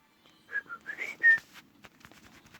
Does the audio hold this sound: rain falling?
no